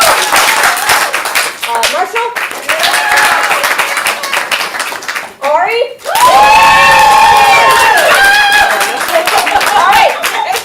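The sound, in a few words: audience applauding for improv players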